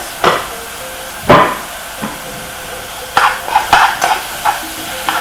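Two meats being stirred together in a hot pan, with scraping and stirring strokes over a low sizzle, several louder clanks of the utensil against the pan.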